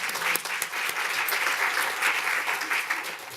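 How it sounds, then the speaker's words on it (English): Steady, full audience applause at a lecture on plastics, a continuous even wash of many hands clapping at moderate loudness for the whole stretch, with no voices standing out. "I think I forgot to give a special clap to Julian when he came in."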